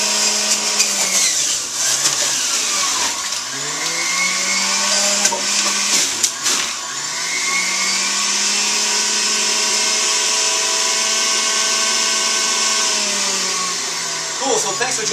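An electric juicer grinds celery with a steady loud whirring motor drone that dips briefly a few times as stalks are pushed in, running continuously for about fifteen seconds.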